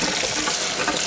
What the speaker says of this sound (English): you might want to run a little bit of warm water over that container